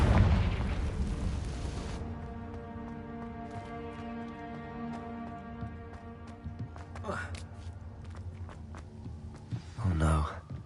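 A Confringo fire spell from Hogwarts Legacy bursts with a heavy boom at the start, then rumbles and fades under game music, with more bursts later.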